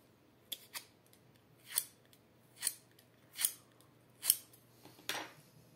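Scissors snip through paper while rounding a card piece for a craft project, about seven crisp close cuts in an uneven rhythm, with no talking.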